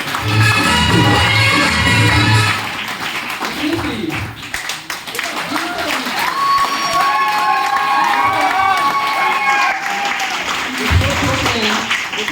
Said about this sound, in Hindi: भाई के लिए जबरदस्त ताली होगी।